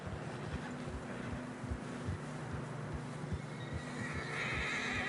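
Horses in Red Dead Redemption 2 trudge through narrow, fresh snow, hooves thudding steadily while a neigh rises over the plodding, with wind hissing around them and no talk.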